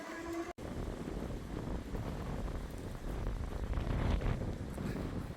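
Steady wind buffeting the microphone with a low roar that swells slightly toward the end, broken by a brief dropout near the start.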